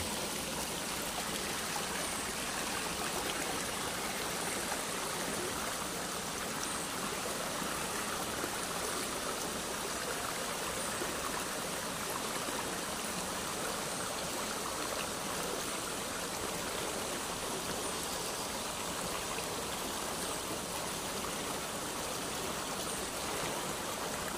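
Kabag Cave Falls pours in a steady, dense roar of rushing water, with broad constant spray near the cave and no voices heard throughout.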